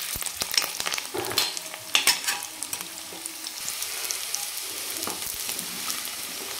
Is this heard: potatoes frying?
yes